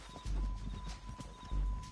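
Horse hooves clip-clop in Red Dead Redemption 2, a steady walking rhythm of close thuds with two heavier low impacts, set against faint background tones and no talking.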